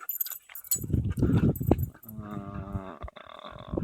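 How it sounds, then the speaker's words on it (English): A dog whimpers and growls close by during an outdoor walk, with rough vocal sounds and whining tones mixed with rustling over a few seconds. "Let's see if we can get this doggy."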